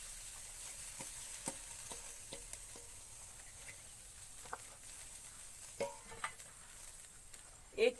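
Long-sliced onions fry in a kadai for a bhindi dish, a faint steady sizzle under scattered clicks and clinks of a utensil stirring, fairly quiet and without speech.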